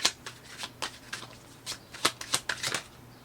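Tarot cards shuffled and handled during a reading: a quick series of close, papery riffles and slaps in uneven bursts, clear and alone without talking.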